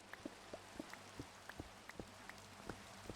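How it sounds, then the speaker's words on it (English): Rain falls in the video game Minecraft as sparse, faint, evenly spaced droplet ticks over a soft background hiss, with no talking. "It's raining."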